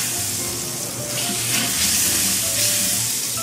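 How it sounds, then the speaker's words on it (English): Butter melting and sizzling in a cooking pot over medium heat, the start of a ham and bean soup: a steady, loud, continuous frying hiss close up, with no talk. "we're going to start with a piece of butter. We'll put that in our cooking pot here."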